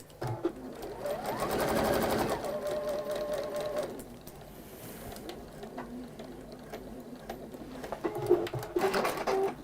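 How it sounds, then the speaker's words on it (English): A sewing machine runs in bursts while round handles are stitched onto a fabric bag: a fast, close mechanical whir that speeds up, pauses, then resumes, with faint bird cooing and light clicks between runs. "if you've ever been scared about sewing in round bag handles, please don't"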